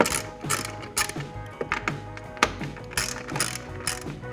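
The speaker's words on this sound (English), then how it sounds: "We're going to start by removing these two T30 bolts." Ratchet backing out T30 bolts on a 2019-2020 Ford Ranger hood latch: rapid, crisp clicking bursts repeating in a steady rhythm of short strokes, close and clear with no talking.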